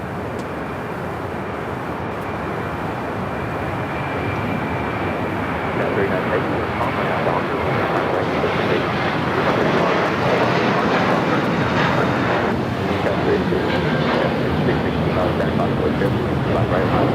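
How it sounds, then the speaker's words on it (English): Airbus A321 airliner on a flight to Boston, passing at Los Angeles airport as a steady, loud broadband jet roar that swells slightly midway, with people talking faintly underneath. "That's the flight heading to Boston at an A321."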